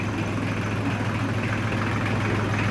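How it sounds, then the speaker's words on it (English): Tractor engine idling steadily nearby on a yard, a continuous low rumbling drone with even vibration throughout, no voices. "let's head to the horse barn on the tractor"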